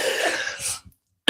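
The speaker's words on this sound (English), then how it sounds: "Coughing in the microphone all night." Coughing right into a microphone: a close, loud burst of harsh coughs, then a short silence and a sudden final cough at the end.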